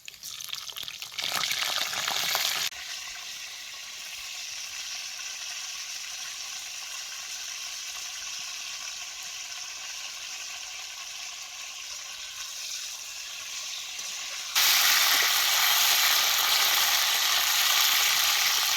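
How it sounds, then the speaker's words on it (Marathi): Brinjal (eggplant) pieces frying in hot oil with mustard seeds and chopped garlic give a steady, close hiss and crackle, with a brief burst early and a clearly louder, brighter sizzle over the last few seconds. "आता ही वांगी अशी गाळून हे तेलात भाजायला घालायची."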